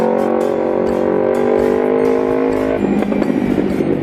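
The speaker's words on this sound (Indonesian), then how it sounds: "Kok knalpotnya setelah diganti ini agak sempreng ya?" A carbureted Kawasaki Ninja 250 R fitted with a replacement muffler runs nearby with a steady, buzzy exhaust drone that turns rougher and more ragged in its last second.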